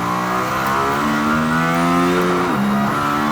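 A Mercedes-AMG ONE hypercar engine screams at full throttle near 11,000 rpm, loud and high-revving, pitch climbing steadily before a quick dip as it shifts gear, close and continuous.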